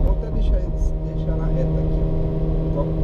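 A Kia Cerato 1.6 16V with a six-speed manual gearbox revs at about 4,500 rpm in second gear on a straight road. The engine gives a loud, steady drone with a constant hum inside the cabin, and there is no speech.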